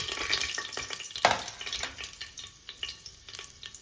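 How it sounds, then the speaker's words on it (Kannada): Garam masala and spices frying in a pan for mushroom biryani, an even sizzle with quick stirring scrapes and taps of the spatula, close up and without talk. "ಇದಕ್ಕೆ ಗರಂ ಮಸಾಲ ಮತ್ತು ಸ್ಪೈಸಸ್ ಆ್ಯಡ್ ಮಾಡ್ಕೋಬೇಕು. ಇದು ಹಾಕ್ಕೊಂಡು ನಾರ್ಮಲ್ ಫ್ರೈ ಮಾಡ್ಕೋಬೇಕು"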